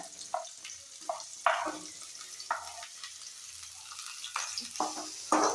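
Chopped onions frying in hot oil in a pan for a home-style Kannada chicken curry, a steady sizzle broken by several louder stirring scrapes and bursts, close by, with no talking.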